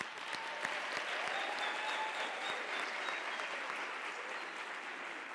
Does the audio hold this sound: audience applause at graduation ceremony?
yes